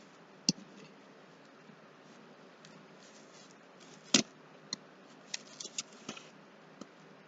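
Cardboard being trimmed, a quiet series of sharp snips and clicks spaced irregularly, with a louder cut near the middle and a cluster of smaller snips toward the end.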